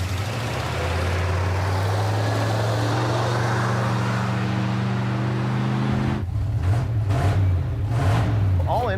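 A Ford truck engine at a garage runs loudly and steadily with a deep, even drone, then shifts to a rougher, pulsing idle near the end as revs change.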